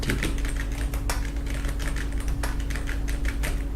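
Rapid typing on a computer keyboard, dense clicking keystrokes close to the microphone in a steady stream over a constant low electrical hum.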